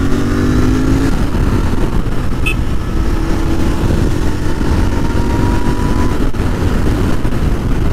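A Royal Enfield 650 twin, a GT 650 or Super Meteor 650, runs steadily under way, its loud continuous engine drone and exhaust note close by, with wind rush and a slight rise in pitch and no talk.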